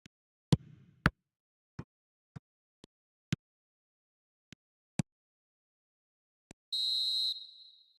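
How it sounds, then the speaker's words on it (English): In an eFootball 2026 match, a referee's half-time whistle gives a single short, shrill blast near the end, after a sparse series of isolated clicks and taps in otherwise quiet surroundings. "And the half-time whistle goes."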